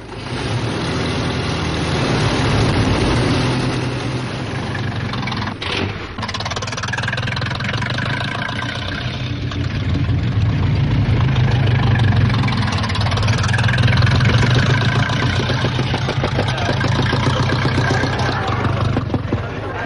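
Engines of vintage racing cars roar together at the start of an early motor race, a loud, steady, rough drone from several machines that swells and dips over time without clear separate passes.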